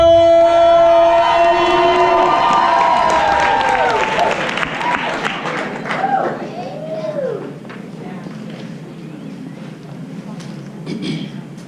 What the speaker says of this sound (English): Please give a warm round of applause for Mr. Cortez Fletcher.